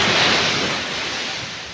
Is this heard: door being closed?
no